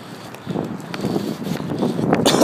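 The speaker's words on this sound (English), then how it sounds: "Wind, the wind's blowing on top of that." Strong cold wind blows outdoors, buffeting the microphone in a steady broadband rush that swells louder toward the end, with some faint rustling underneath.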